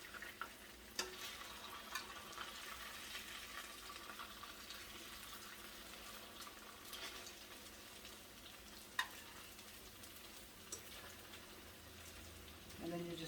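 Hot water cornbread fries in a pan with a quiet, steady sizzle, punctuated by a few sharp clicks and knocks from cooking utensils, while a voice speaks faintly over it.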